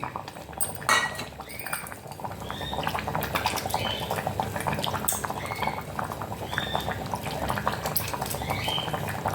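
A pot of tamarind sambar bubbles and simmers steadily, with dense popping and occasional clinks of utensils throughout.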